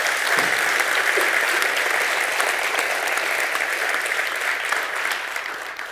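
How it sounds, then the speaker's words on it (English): A conference audience at a tech session bursts into steady, dense applause that holds evenly for several seconds and fades slightly at the end, with no voices over it. "Do you want to give a round of applause first?"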